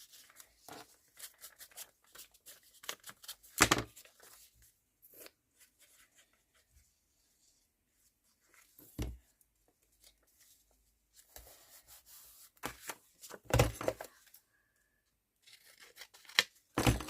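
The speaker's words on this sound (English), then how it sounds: "I'm going to rip the edges." Paper edges being ripped by hand while working on a vintage-style journal signature, short scattered tearing bursts separated by quiet gaps, close and fairly soft.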